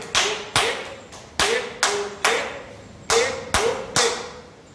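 Hand clapping at a village interaction session during an NSS camp: sharp, separate claps, about ten in all, at an uneven rhythm, each ringing out briefly in a reverberant space, with no talking over them.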